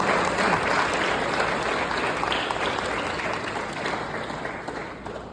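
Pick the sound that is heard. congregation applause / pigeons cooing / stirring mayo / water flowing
congregation applause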